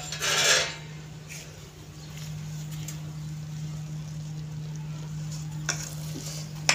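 Vermicelli (sevaiyan) cooks in a pan on a home stove while a utensil stirs it, a scraping swirl at the start, then a steady low sizzle with a couple of faint clinks and an ongoing hum.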